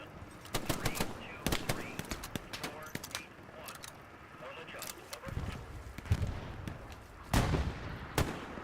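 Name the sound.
machine gun firing in the video game Hell Let Loose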